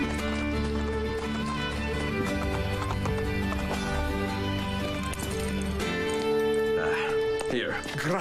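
Horse hooves clip-clop in a cutscene from the video game Assassin's Creed Brotherhood. The rhythmic hoofbeats run under music and voices, and a horse whinnies near the end.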